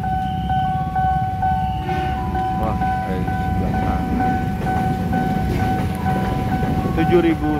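A KRL commuter train rolls past a railway level crossing at Pondok Jati, with a steady loud rumble of rail cars and a repeating crossing bell tone, while people talk nearby.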